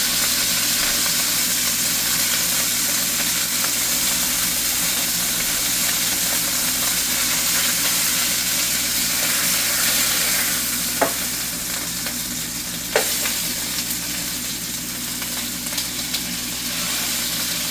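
Burger and onions frying in a pan, a loud, steady sizzle and hiss that continues throughout, with a couple of brief clicks of stirring or utensil contact near the end.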